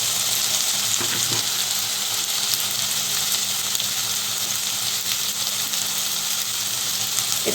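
Small cut potato pieces fry in hot oil tempered with garam masala, bay leaf and cumin for ghugni, giving a steady, loud sizzle throughout with a few soft stirring knocks near the start.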